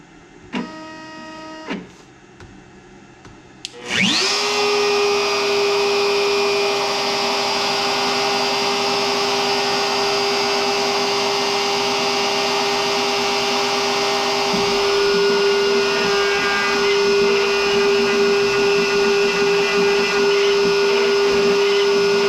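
An X-Carve CNC router cuts a V-carve with a 60-degree bit at 1/8 inch depth through a vinyl paint mask. A few short motor beeps come first, then a loud, steady high whine from the spindle that runs on continuously.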